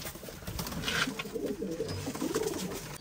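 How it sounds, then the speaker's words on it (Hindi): Pigeons coo softly and repeatedly, close by, over a rustling, noisy background with no talking. "ओ हो बड़ा ही भाई मोटा कबूतर ये पकड़ो"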